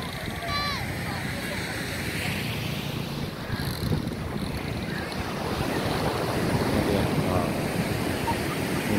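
Steady ocean surf washes onto Padang Beach in the late afternoon with constant wind rumble, and a faint voice or whistle is briefly audible early on.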